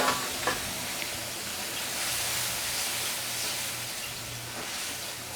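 Bottle gourd tipped into a pan of onions fried until red, for a Bengali lau chingri (gourd with prawns), sizzling and frying steadily and close up for several seconds, with a sharp burst at the start, light stirring and no talk.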